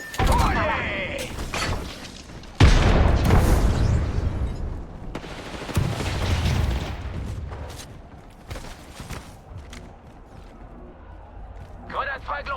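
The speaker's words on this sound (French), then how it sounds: "Grenade frag lancée!" Gunfire and a frag grenade blast in the video game Apex Legends, with bursts of shots and a loud boom mid-clip, layered under busy game effects and voices.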